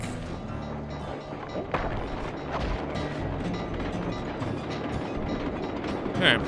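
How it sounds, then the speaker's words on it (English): Train rolling along rails in the video game Sly 2, a steady dense rumble with broad rattling noise running throughout, loud and continuous with a few sharper knocks. "Just ride the train."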